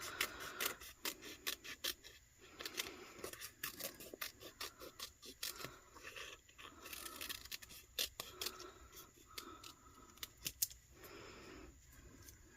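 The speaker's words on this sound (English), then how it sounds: "Your decals, you're going to want to trim down." White-backed vinyl decal being trimmed for a tumbler, with steady rasping, scraping cuts repeating quickly and close by, and no talk.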